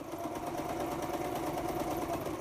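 A sewing machine stitching paper signatures for a junk journal, heard as a steady, close, rapid mechanical whirring with no pauses.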